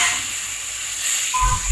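Water poured into a hot pan of turmeric and salt sends up a sharp, continuous steam hiss close by, with a brief low clatter near the end.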